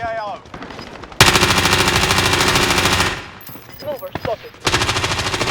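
Gunfire from above in Call of Duty Warzone: two long, loud, rapid automatic bursts, each lasting a couple of seconds, separated by a brief lull with quieter shots and game sounds.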